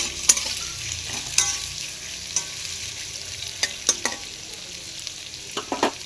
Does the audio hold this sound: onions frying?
yes